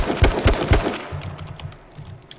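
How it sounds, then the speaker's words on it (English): Assault rifle fire in a video game, a quick rhythmic burst of about three loud, close shots at mid to long range, followed by fainter clinking and settling sounds as the firing stops. "I found the somewhat perfect rhythm to shoot a mid to long range AR"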